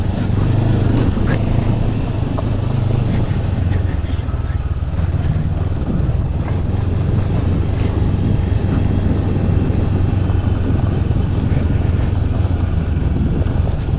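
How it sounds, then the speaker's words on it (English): A Honda CB500X motorcycle from 2019 is being ridden, its engine droning steadily under heavy wind rush, with faint intermittent pops from the exhaust scattered through the ride. "And the engine is popping behind me. The exhaust goes pop, pop, pop constantly."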